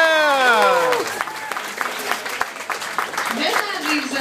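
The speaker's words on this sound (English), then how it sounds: "Give them a cheer as they leave the stage" Audience at a live contest show cheers and applauds as contestants leave the stage, a steady wash of clapping and crowd noise that starts under a voice and continues alone for several seconds.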